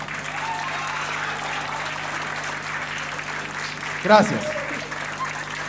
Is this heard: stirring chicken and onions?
no